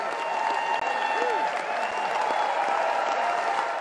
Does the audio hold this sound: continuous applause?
yes